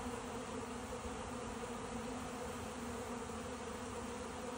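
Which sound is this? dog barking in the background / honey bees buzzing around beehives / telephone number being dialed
honey bees buzzing around beehives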